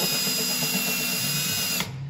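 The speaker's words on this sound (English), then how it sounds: "you're just gonna drill through" Small bit in a power drill boring through to mount a PotterUSA hydraulic press, a steady whining drone lasting about two seconds before the pitch drops as it winds down.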